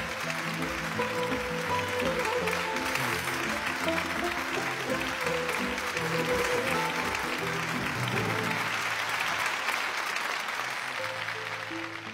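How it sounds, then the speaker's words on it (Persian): Sustained audience applause at a Quran recitation gathering, loud and steady clapping throughout, tapering slightly at the end. "غلام رضا قاسمیان عزیز رو تشویق کنیم"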